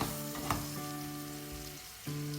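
Vegetables for a monkfish stew sauté in a pan with a close, steady sizzling hiss, a brief stir or clink near the start and a low background hum, with no voices.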